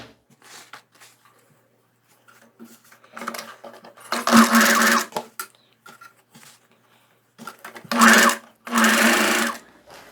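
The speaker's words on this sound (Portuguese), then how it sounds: "eu vou fazer uma dobra bem estreita aqui, de 1/2 centímetro só, em volta dela toda e passar a costura." A sewing machine stitches a narrow half-centimetre folded hem on knit fabric for a dress, running in short bursts with two louder runs near the middle and end, close and alone without talk.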